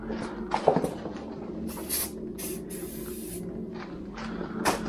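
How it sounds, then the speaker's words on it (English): An aerosol can sprays in several short hissing bursts onto a bicycle during a flat tire repair, close by, with small clicks and handling noises between them. "I'm going to spray lots of this crazy stuff in there."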